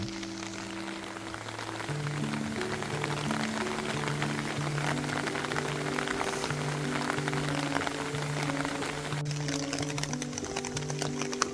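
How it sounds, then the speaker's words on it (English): Heavy rain pours down in a dense, constant hiss in a bamboo forest in Shuzenji, Japan, with music playing softly underneath throughout. "the rain was coming down pretty hard"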